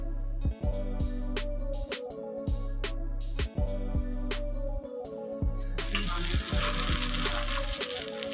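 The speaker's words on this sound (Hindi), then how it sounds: "इसके बाद तमाम कबाब अंडे वाले अमीजे में डिप करके शैलो फ्राई कर" Egg-dipped potato kebabs shallow frying in a pan, a sizzle heard under a repeating low musical backing, swelling into a louder, brighter hiss near the end.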